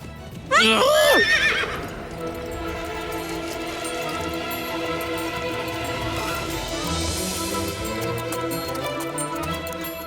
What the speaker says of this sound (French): Mais le cheval court tout seul.